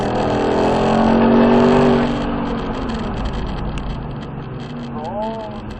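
A Ford Mustang driven hard around a track by a professional driver, loud engine drone rising and falling through braking and cornering, with someone talking over it from inside the car.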